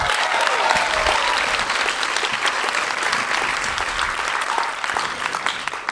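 Sustained loud audience applause at a final summer-program gala in Jonquière, dense crowd clapping that continues evenly throughout.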